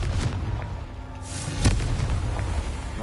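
A Confringo spell explosion in Hogwarts Legacy: a single boom bursts out at mid-clip over steady game ambience, with a few softer thumps around it.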